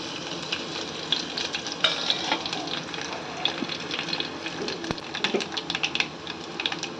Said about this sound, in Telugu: ఆయిల్ పోసుకొని కొంచెం వేడయ్యాక ఎండు ఎండుమిరపకాయలు వేసేసుకొని